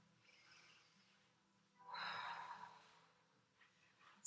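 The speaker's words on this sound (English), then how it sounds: "Take a big breath in" A deep breath drawn in while lying on a mat before a bridge in a floor exercise routine, a single soft airy swell in the middle, alone in a quiet room.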